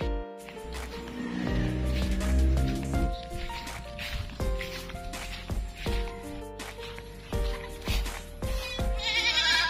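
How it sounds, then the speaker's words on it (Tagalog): Goats kept on a rural Philippine farm bleat repeatedly and loudly up close, several calls overlapping in a busy stretch of animal noise with no talking. "kukunin natin yung mga alagang kambing dito sa Manukan"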